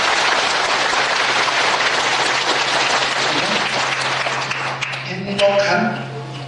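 A church congregation claps together in loud, sustained applause that fills the room, then thins out near the end as a low hum and a voice come through.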